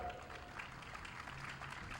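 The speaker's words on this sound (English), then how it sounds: "A big round of applause for yourself." Faint, distant applause from graduates at a university convocation hall, a thin continuous patter of clapping under a soft murmur of the crowd.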